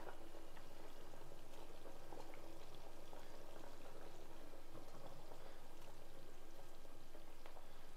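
Curry with soft vegetable koftas simmers in a pan, a faint, continuous bubbling and popping with no voices over it.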